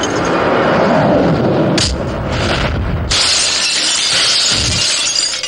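A car window's glass is smashed in a Malayalam movie scene, a loud crash and shatter with tinkling fragments, then a sudden break into sustained bright crackling noise and a low thud.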